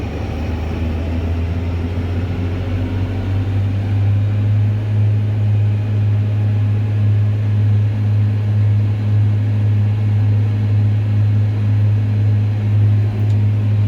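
A tractor mower engine runs steady and loud, holding a strong low drone at high revs after its front and rear PTO are switched on, with no voices over it.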